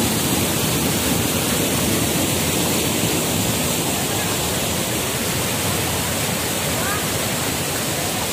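Tinago Falls roaring steadily, a dense, loud rush of cascading water that fills the whole scene without letup, close by and unbroken.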